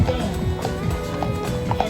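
Horses walk along a street, and their hooves clop in a steady, uneven rhythm at moderate distance. Voices and background noise sit over the hoofbeats throughout.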